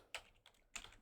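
Quick keystrokes on a computer keyboard, a few faint clicks in a short cluster, close but quiet, with no talk over them.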